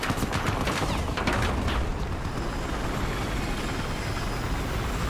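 A helicopter's steady rotor roar in Battlefield 4, on the Golmud Railway map, fills the scene, with booming bursts layered in early on, loud and continuous without talking.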